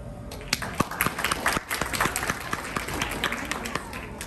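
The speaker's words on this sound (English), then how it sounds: "Big round of applause to Srinali, Samanvita, and Sapit." Scattered, moderately faint clapping from an audience honouring new graduates of a Ramayana learning program, individual claps standing out in an uneven patter.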